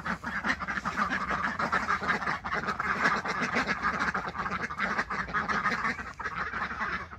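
A flock of backyard ducks quacks and jabbers loudly and without pause, many voices overlapping close by in a dense, steady chorus.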